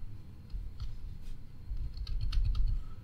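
Typing on a USB computer keyboard connected to an iPad: quick, uneven bursts of close key clicks, sparse at first and then a denser run of keystrokes over a low background hum.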